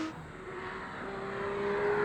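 A Porsche 911 GT3 RS engine at speed on a race track gives a sustained, rising wail that grows louder toward the end, heard steadily without talking.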